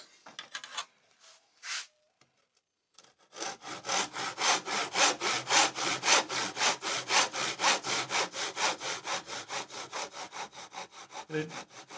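A tenon saw cuts scrap timber in a fast, even run of rhythmic push-pull strokes, close and fairly loud, about twenty in a row after a few short starting scrapes.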